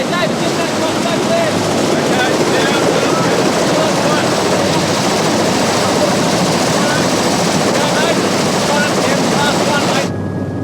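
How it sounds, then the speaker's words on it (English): A helicopter roars loudly and steadily nearby on a ship in Antarctica, a dense engine and rotor drone with no pauses, cutting off abruptly at the end. "But offloading must now be done by chopper."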